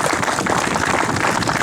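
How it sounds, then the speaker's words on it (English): Dense, loud applause from an audience at a state grant announcement for an elevator company, a thick continuous roar of clapping for a brief moment. "Let's give them a round of applause."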